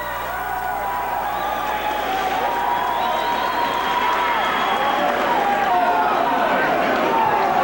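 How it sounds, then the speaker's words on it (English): Large crowd noise fills a packed arena at a high school hockey game between New Trier and Loyola, a steady roar of voices and cheering that swells slightly toward the end, with commentary heard over it. "Full house. Big crowd on hand tonight."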